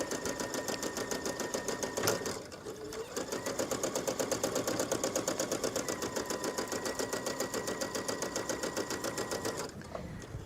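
A sewing machine stitches lace onto tulle in a fast, even mechanical chatter, loud and close, running almost continuously with a short slowdown partway through and a brief stop near the end.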